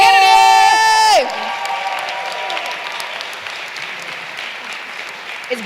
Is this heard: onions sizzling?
no